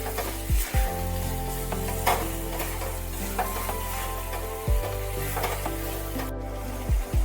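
Eggplant and potatoes with spices fry in a pan, a steady sizzle broken by several scraping stirs of a spatula against the pan, close and loud, with no talking.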